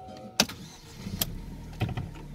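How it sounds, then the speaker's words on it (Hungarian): Starting a 115-horsepower 1.6 petrol Opel Insignia sedan with the bonnet open: a few sharp clicks and a brief cranking surge, then the engine catches into a low, quiet idle. "Már is beindítom"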